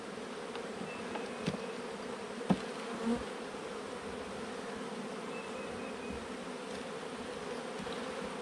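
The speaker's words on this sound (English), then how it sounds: "There are not tons of bees in this hive." Bees buzz steadily in a dense, low drone near a hive, with a few louder individual passes and small knocks.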